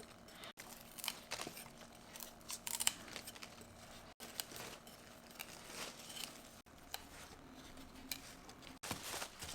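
A knife trims the ends and fine hairs off ponytail radishes in quick, quiet, close scraping and cutting strokes. The strokes come in an irregular rhythm, with no talk.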